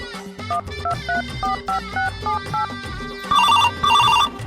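A phone ringtone plays a bouncy electronic melody of repeated short tones, then shifts into a brighter, louder trilling ring, close by.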